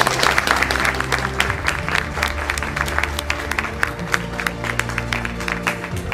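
An audience at an Athens school career-guidance event breaks into sustained, dense applause, many hands clapping loudly and continuously throughout.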